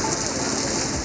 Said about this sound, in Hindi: मानसून की बारिशें,